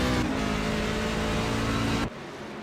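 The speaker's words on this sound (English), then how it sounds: "he puts the pedal down full throttle just at the end of 2nd gear" A racing truck in a racing video game drives at full throttle, its engine a loud sustained roar that cuts off abruptly near the end.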